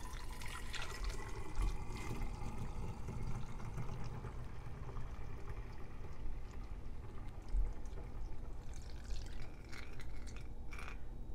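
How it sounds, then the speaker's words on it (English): Homemade almond milk pours steadily in a continuous splashing stream, with faint drips and a few light clinks near the end. "And we pour."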